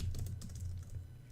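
Rapid keystrokes clatter on a computer keyboard in a quick close burst while code is entered, with no talking.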